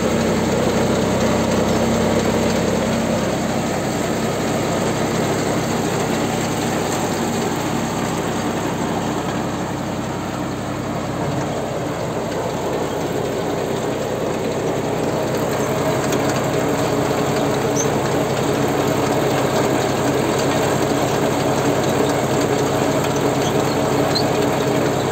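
A Star MRB 0840 baler runs continuously, a loud, even mechanical drone with a faint rattling clatter that holds steady throughout, with no talking.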